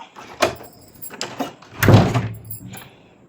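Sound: door being closed

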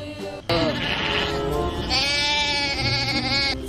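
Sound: goat bleating, from a video game

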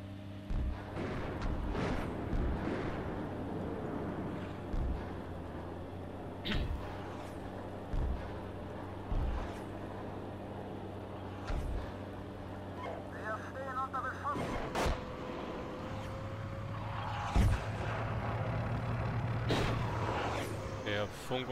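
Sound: artillery fire in the tank simulator game Steel Beasts Pro

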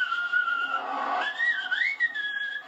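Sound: whistling imitation of a cold draft

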